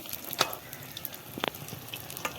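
Raw papaya fritters deep-frying slowly in hot oil, with a low, crackly sizzle broken by scattered pops and one brief louder spit.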